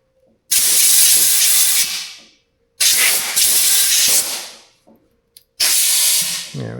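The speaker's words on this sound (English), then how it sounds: "And then a little bit of compressed air." Compressed air blasting from an air compressor hose while working on an S&S sand car fuel line, three loud sustained hissing bursts separated by brief silences.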